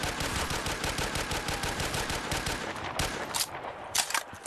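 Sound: gunfire in video game Black Ops 3 zombies custom map

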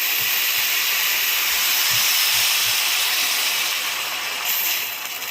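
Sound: boiling water poured into potato stew pot, hissing

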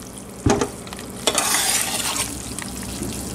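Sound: goat tallow rendering and bubbling in an Instant Pot

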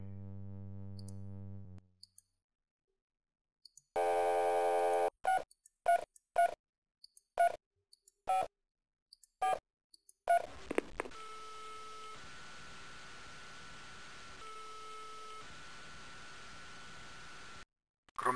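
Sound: telephone dialing tones in the video game Spycraft: The Great Game

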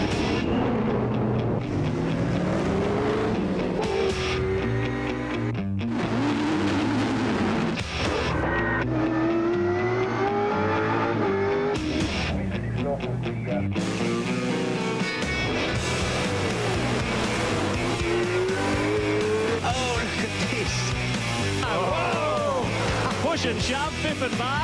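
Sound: V8 Supercars racing at the Adelaide 500

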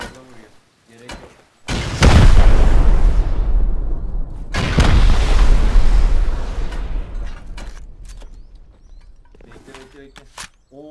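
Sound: rocket explosion in a video game (Rust)

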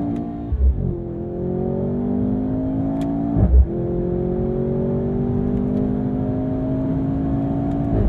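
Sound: 2023 Mercedes-AMG C43 sedan engine revving to redline

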